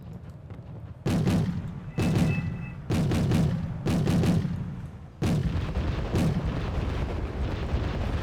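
Mortar artillery fires in the strategy game Wargame: AirLand Battle on the Ostersund map, a series of about six loud, close, booming reports that come at roughly one-second intervals, each with a rumbling tail.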